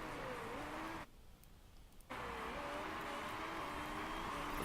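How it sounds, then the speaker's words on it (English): Race car engines from the Motorsport Manager game drone continuously in the background, with a brief drop in level partway through before the steady roar returns, with no voices. "I'm actually just going to turn down that race noise ever so slightly"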